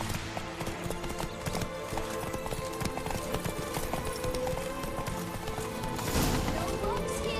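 A horse gallops in The Witcher 3 video game, its hooves beating a fast, steady clip-clop close by under a game soundtrack, with a rider's voice briefly urging it on.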